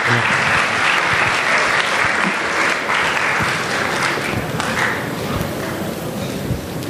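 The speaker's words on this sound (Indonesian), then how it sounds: "sekali lagi kita beri aplaus untuk dua narasumber" A seminar audience applauds its two speakers, steady loud clapping from many hands continuing throughout without a break.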